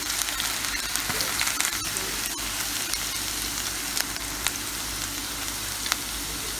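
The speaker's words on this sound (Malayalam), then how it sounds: "ചത ചതച്ച് വെച്ചിരിക്കുന്ന ഇഞ്ചിയും വെളുത്തുള്ളിയും അതിലേക്ക് ഇട്ട് കൊടുക്കാം" Crushed ginger and garlic sizzle steadily in hot oil for a fish head curry, a dense, close crackling fry that runs continuously with small pops and faint stirring.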